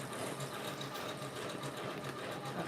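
An embroidery sewing machine stitches steadily inside its hoop, a fast, even whirring chatter of the needle at low, close level with no talk.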